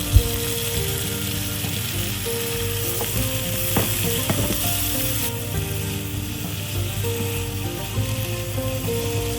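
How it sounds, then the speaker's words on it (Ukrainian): Sliced tomatoes fry with onions and carrots in a hot pan, giving a loud, continuous sizzle with occasional scraping and stirring clicks close by. "Далі додаємо нарізані помідори."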